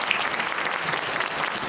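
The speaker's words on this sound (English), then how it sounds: "So I'd like to give them a round of applause." An audience at an event in Sacramento, California breaks into brief, steady applause, a dense wash of clapping from many hands with no pauses.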